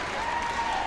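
A crowd at a Sam Houston Bearkats versus Stephen F Austin Lumberjacks college basketball game roars steadily on its feet, a dense wash of cheering in a short burst.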